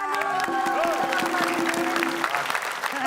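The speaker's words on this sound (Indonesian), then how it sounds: "tepuk tangan dulu" A studio audience claps for a brief burst on an Indonesian TV comedy show, with a host's voice running over the applause.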